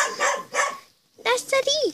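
A cartoon dog in a Pinkie Pie video game barks and yips in short, bright bursts, mixed with children's voices talking over the game.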